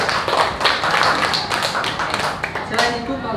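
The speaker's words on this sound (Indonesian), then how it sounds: "Kita beri tepuk tangan dulu untuk kelompok 3." Classroom applause from primary school pupils for a student group after a presentation, a dense, quick patter of small hands clapping together close by with some voices mixed in.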